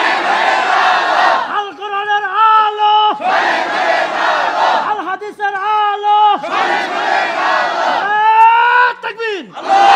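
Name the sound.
crowd chanting takbir slogan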